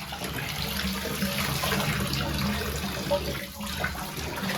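Running water rinsing soap suds out of washed denim jeans, a continuous close rushing and splashing like a tap pouring into a sink or tub, steady throughout with no talk.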